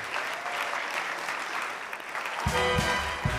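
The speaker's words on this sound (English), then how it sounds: "Let's get one more huge round of applause for everybody involved." An audience at an evening Mr. CCH 2022 pageant event bursts into loud, sustained applause that swells near the end, with heavier low rumble joining in as the clapping intensifies.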